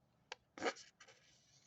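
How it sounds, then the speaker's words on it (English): A pencil tracing over a drawing on ordinary paper gives a short tap followed by quick scratchy strokes, close and quiet, with no talking. "you trace over it to try to get it to transfer to another sheet of paper"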